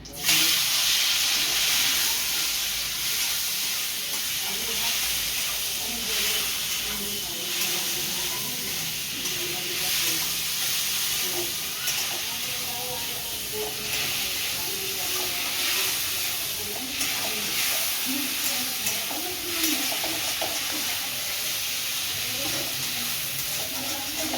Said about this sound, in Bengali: চিংড়ি মাছটা ভেজে নেবো। একটু হলুদ দিয়ে দিচ্ছি, চিংড়ি মাছটা দিয়ে দিচ্ছি।